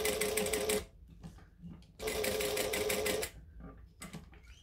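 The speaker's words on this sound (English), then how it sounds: "I'm going to put the Velcro side down so that I get a nice top stitch on the outside." Domestic sewing machine top stitching through Velcro on a fabric case, two sustained bursts of fast, even mechanical whirring separated by quieter handling noise, close and clear, with no speech.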